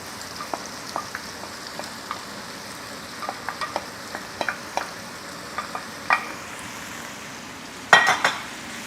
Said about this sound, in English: And I'm going to throw in the bacon as well.